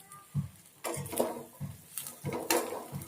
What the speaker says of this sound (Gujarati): આ ગાર્લિક ચટણી નાખી અને મિક્સ કરીશ